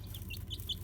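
Faint, quick high peeps from one-week-old Barred Rock baby chicks, several short chirps in a row over a low background hum.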